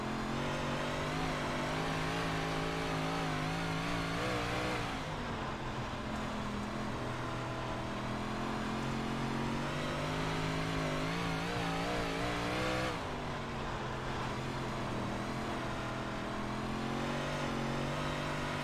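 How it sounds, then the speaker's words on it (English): A Big Block Modified race car engine roars steadily, then its tone dips twice as the throttle rolls off and comes back on. The engine sounds close and loud, with no talking. "But you see how I'm rolling out of the throttle and rolling back in?"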